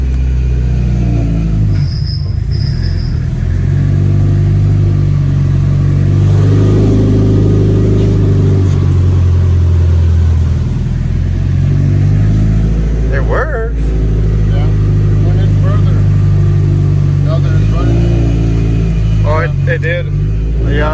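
Subaru STi with a rebuilt six-speed transmission runs in fourth gear, a steady mid-pitched engine drone with rises and falls in revs, heard from inside the car while people talk intermittently over it.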